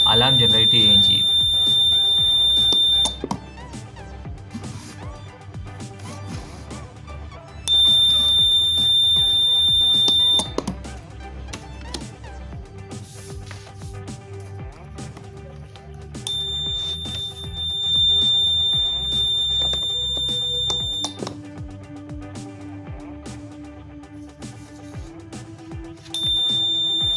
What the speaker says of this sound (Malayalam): ഈ സെൻസർ ഇവിടെ തട്ടുകയും അലാം ജനറേറ്റ് ചെയ്യുകയും ചെയ്യും